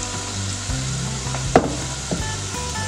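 Spinach and kale pakoras frying in a pan of oil give a steady, close sizzle, broken by a few soft knocks and clicks as pieces are set in place.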